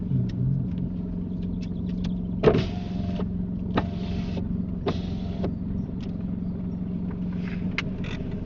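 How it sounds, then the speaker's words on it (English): A car's electric parking brake is applied during a UK driving test: short motor whirs in several bursts over a steady low idling engine rumble, with no talk. "Will you please use the button when you apply the parking brake?"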